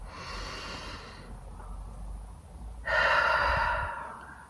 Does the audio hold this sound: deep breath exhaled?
yes